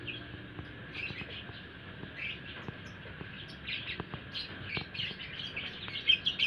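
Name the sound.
lovebird chirping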